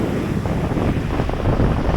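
Black Sea waves wash onto the shore under strong wind buffeting the microphone, a dense, loud, continuous roar with no talk.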